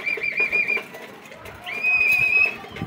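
A pigeon, a racing breeder bird, gives soft whistling coos close by in two brief phrases, with a gentle fluttery sound between them.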